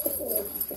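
Pigeons for sale at a market beside Kolyapur railway station give a brief, close soft cooing call, a couple of quick rolling notes standing out over a faint background.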